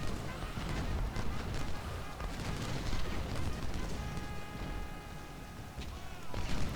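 Massed musket volleys crackle and rumble through a Civil War battle at Bull Run in the strategy game Ultimate General: Civil War, a dense continuous barrage of gunfire and booms with no voices over it.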